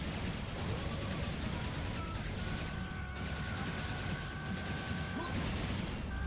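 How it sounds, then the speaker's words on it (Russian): Rapid gunfire in the shooter game Serious Sam 2, as kamikaze enemies are shot down. Dense, continuous bursts of shots with a mechanical clatter carry on through the whole stretch, with no talk. "То есть мы отстреливаем камикадзе."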